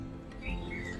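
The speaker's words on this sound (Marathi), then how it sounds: "माझ्या आजूबाजूला एवढ्या चिमण्या चिवचिव चिव करत आहेत" Sparrows chirp in a garden, short high tweets scattered over a brief moment against a soft background hum, fairly close and moderately faint.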